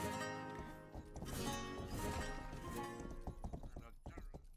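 Galloping hooves from a horse in the video game Rustler clatter in quick, repeated clip-clops over a busy game soundtrack, with a faint whinny in the mix.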